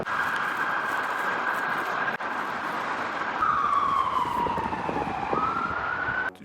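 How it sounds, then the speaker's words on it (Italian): An emergency vehicle siren wails on a street in Ireland, a loud, sustained electronic tone that holds steady, then shifts pitch and sweeps back up, with no talking. "Sentite la sirena, vero?"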